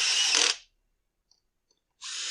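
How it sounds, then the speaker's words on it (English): Power tool driving screws into a Husqvarna 580BTS backpack blower: a short high whir, near silence with a couple of faint clicks, then another burst of driving, close and alone without talk. "And then we'll run the screws home."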